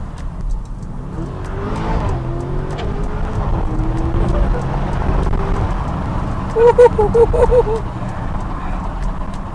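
A Lamborghini Urus with a full carbon fiber Vorsteiner widebody kit accelerates with its exhaust valves closed, the engine note rising through several gear shifts at moderate loudness while a person talks over it.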